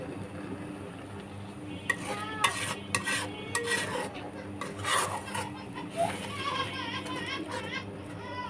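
Spice paste for liver bhuna is stirred in a pan: a spoon scrapes and clinks against metal in uneven strokes over a faint sizzle, with distant children's voices.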